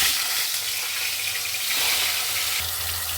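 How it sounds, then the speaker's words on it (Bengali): Rohu fish, rubbed with salt and turmeric, frying in oil in a kadai, giving a steady, close hiss that holds at an even loudness for the whole stretch, with no voices over it. "রুই মাছটা ভেজে তারপর প্রসেসটা দেখাচ্ছি।"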